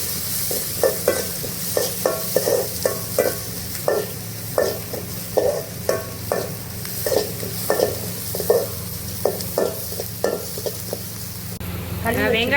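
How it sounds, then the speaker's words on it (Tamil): Onions, chana dal, cinnamon and chili sautéing in a pan for village-style cabbage poriyal: a continuous close sizzle with rhythmic, evenly spaced scrapes of a spoon stirring against the pan, no talking. "வெங்காயம் எல்லாத்தையும் போட்டு நல்லா வதக்கிக்கோங்க"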